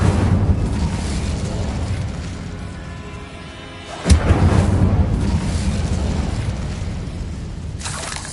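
An Incendio fire spell cast in Hogwarts Legacy, a sudden sharp blast of flame that breaks through a low rumbling background partway through, then settles into a roaring crackle.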